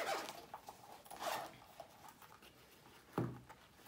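A zipper being pulled open on a storage case for a JBL Clip 3 Bluetooth speaker: a few quiet zipping strokes and a soft rustle, followed by a sharper closing scrape, close and faint.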